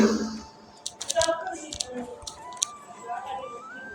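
Quick bursts of computer keyboard typing as a product name is entered, a flurry of light clicking keystrokes close up, then scattered single taps, with someone talking over them.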